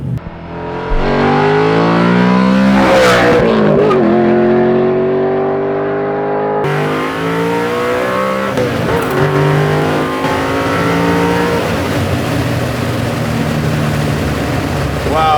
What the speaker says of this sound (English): He didn't look happy at the screaming Mercury SB4 motor coming by.